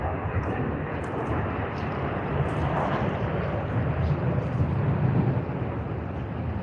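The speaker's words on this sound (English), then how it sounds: "And here you are, ANA, Boeing 787-9 Dreamliner." ANA Boeing 787-9 Dreamliner taxiing toward runway 16L at Sydney Airport, a steady low engine rumble and hiss at a distance, with faint higher noises scattered above.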